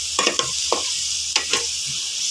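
Pork being stirred and sautéed with fish sauce in a pan: a handful of quick, close scraping and clattering strokes over a constant frying sizzle.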